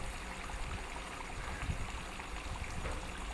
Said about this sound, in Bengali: কি সুন্দর ফুটছে দেখো